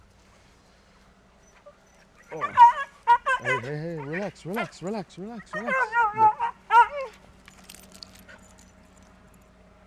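A dog whimpers and barks in a rapid, rising run of excited cries at another dog passing along a road on a walk, loud and close, with someone speaking calmly to it before and after.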